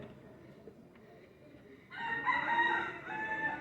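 A rooster crows loudly and close, one sustained cock-a-doodle-doo that swells in after a quieter stretch of low ambient background.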